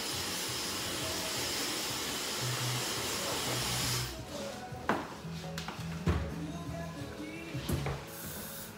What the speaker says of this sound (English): the Dyson Supersonic blow dryer is all done